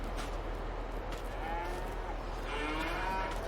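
A herd of cattle on a Farming Simulator 22 farm lows continuously, several overlapping moos drawn out over steady low background hum, fairly close and moderate in level.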